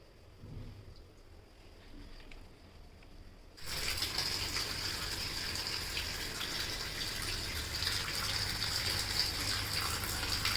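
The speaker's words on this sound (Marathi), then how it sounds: "2-3 पाण्याने चांगली स्वच्छ धुवून घ्यायची." Sliced potato wafers are rinsed in water; after a quiet start, a loud, steady gush of running water fills the rest of the stretch, close by.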